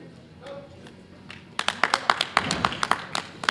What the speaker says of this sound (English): you can hear you may be able to hear the Indian team clapping right behind us.